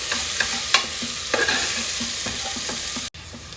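Garam masala being stirred into a frying mixture in a pan, a continuous sizzle broken by several clacking spoon stirs at an uneven pace, close and clear, ending with a brief cut to silence.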